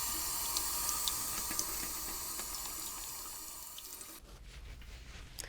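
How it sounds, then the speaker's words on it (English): Tap water runs steadily into a sink as hands are washed after handling raw beef in a home kitchen, a continuous close hiss that cuts off near the end, leaving quiet drips. "I need to wash my hands as I've been handling raw meat"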